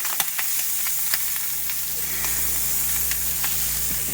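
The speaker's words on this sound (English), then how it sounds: "So I'll take one of the fillets, put it on top of the mound of butter." A cutthroat trout fillet sizzles in a mound of hot butter in a pan inside a trailer, a steady close frying hiss with small crackling pops throughout.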